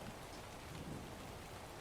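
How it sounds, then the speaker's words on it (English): Steady rain falls with a low rumble of thunder beneath it, a dense, even hiss that stays constant throughout, with no voices. "Rain is good study noises?"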